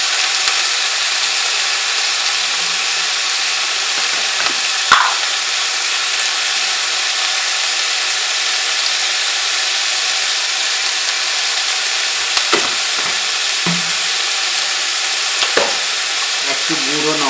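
Chopped vegetable stems and potato fry in a pan with a steady, even hiss. Now and then a spatula scrapes or clicks against the metal as the pieces are stirred, with no talking.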